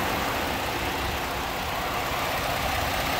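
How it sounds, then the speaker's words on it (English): Turbocharged V6 engine of a Ford F-150 FX4 pickup idling quietly, a steady, even low hum and hiss that holds constant throughout with no voices. "V6 engine, very, very quiet."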